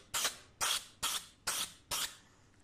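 Spray paint hissing onto a PC case: five short, evenly spaced bursts about half a second apart, each a loud, close, breathy hiss with near silence between, the last trailing off.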